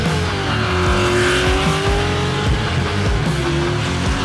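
An Australian car rolls through the gates with a loud, steady engine drone and a sliding pitch that rises and dips like revving, running continuously and close.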